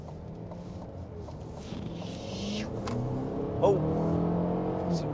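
A 2024 Cadillac XT4 accelerates, heard from inside the cabin as a low engine drone that slowly rises in pitch and loudness, with a brief spoken exclamation over it.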